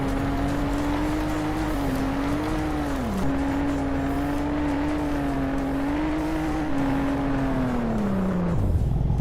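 Default untuned car driving in the Roblox game Greenville: a steady, continuous engine drone with slight pitch wobbles and one brief dip, running alone and loud until it drops away just before the end.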